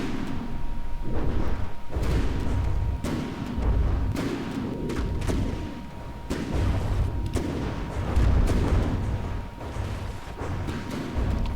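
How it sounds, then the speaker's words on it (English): Ship guns in From the Depths firing HE and frag shells, a sequence of heavy booming shots and thudding impacts spaced every second or so, with a continuous low rumble and a faint steady tone underneath. "You can see all the HE and frag that is hitting in the area from the guns."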